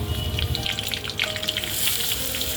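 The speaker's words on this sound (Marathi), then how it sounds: "मोहरी टाकली आहे जिरं कढीपत्ता टाकला आहे" Mustard seeds, cumin and curry leaves sizzle and crackle in plenty of hot oil for spicy misal, a dense, close, loud spitting hiss throughout.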